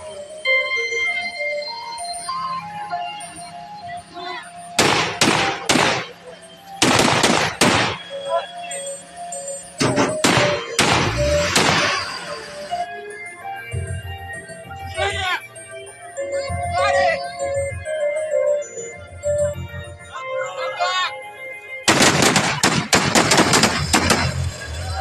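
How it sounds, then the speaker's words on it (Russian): Guns fire blank cartridges at children during a staged event, with bursts of sharp, loud rapid shots in several clusters, separated by stretches of children's voices, speech and background noise. "Стрельба в детей холостыми патронами."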